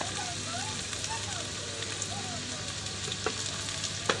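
Red chili sizzling as it fries in a hot pan, a dense steady crackle and hiss running throughout with a few sharp pops and faint clinks near the end.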